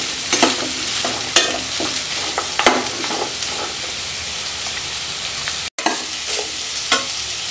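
Ingredients for coconut milk biryani sauté in a pan, a steady close sizzle broken by repeated scraping and clicking strokes of a stirring spoon, fairly loud with no talk; one brief dropout near the end.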